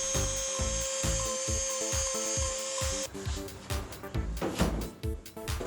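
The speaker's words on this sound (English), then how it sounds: "Oh look, the Dremel's being useful." A Dremel rotary tool cuts into car parts on an Exocet kit car build. A high steady whine with rhythmic grinding pulses shifts into rougher, uneven scraping and cutting bursts at close range.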